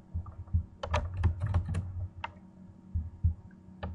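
Computer keyboard being typed on to enter a search query, a close burst of crisp key clicks followed by a pause and a few more scattered keystrokes, with no talking.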